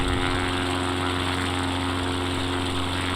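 Propeller engine of an X Cub light airplane in flight, a steady loud drone heard from inside the cabin with no pauses.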